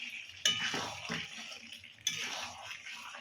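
Chicken curry being stirred in a pan, with a spoon scraping and clinking against the metal in two brief bursts and a soft sizzle underneath, quiet and close.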